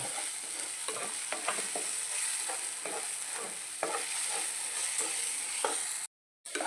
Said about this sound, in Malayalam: നന്നായിട്ട് പൊരിച്ചെടുക്കട്ടെ